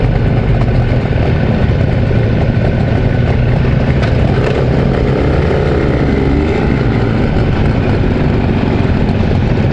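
A Jawa 350 motorcycle is ridden through city traffic on a Victory Day outing, making a loud, continuous rough engine roar mixed with wind rush that stays close and constant throughout.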